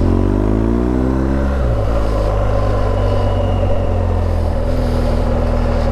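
A BMW R1200GSA motorcycle fitted with an Akrapovic exhaust rumbles steadily and loud, its deep engine drone shifting pitch as it revs up and settles into a cruising tone, with no voices over it.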